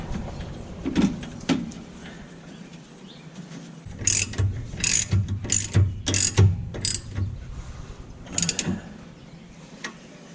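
Hand-tightening a bolt on the rear shock of a 2010 Mazda 3: a run of quick metallic ratchet clicks in short bursts, close and moderately loud, with a low mechanical hum under them and no talking.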